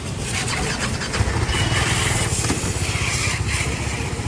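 Motorcycle engine starting up and then running with a steady, throbbing, moderately loud rumble close by.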